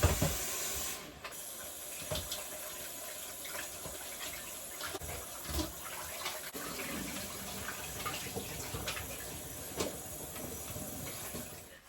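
Running tap water rinsing thin pieces of beef in a kitchen sink, a soft steady hiss and splash with faint irregular knocks, heard alone and fairly quietly.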